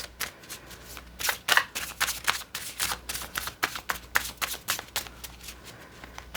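Tarot cards are shuffled and drawn by hand, giving quick papery riffles and soft slaps in an uneven rhythm, close and fairly quiet, with no talking.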